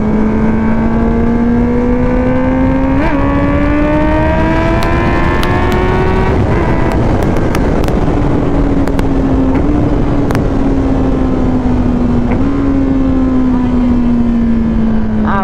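A Kawasaki ZX-10R motorcycle rides along, its engine droning loud and close with rising and falling revs and shifting pitch, wind noise and a few sharp clicks over about fifteen seconds.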